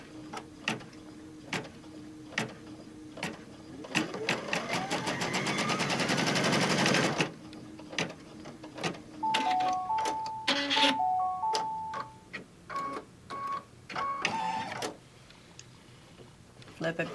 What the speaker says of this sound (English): We're going to sew the other side.